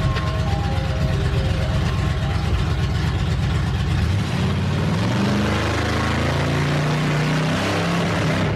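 A rebuilt carburetor engine, recently removed, rebuilt and replaced, runs loud and steady close by, its idle note dropping and settling into a lower, uneven rumble partway through.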